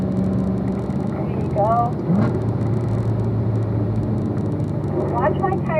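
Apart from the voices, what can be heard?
car engine accelerating through gears on track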